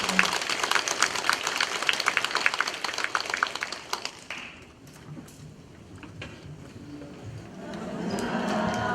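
Audience at a Won Buddhist volunteer association leadership training ceremony applauds to welcome a visiting professor, a dense burst of many hands clapping that thins out after about four seconds, followed by murmuring and rustling.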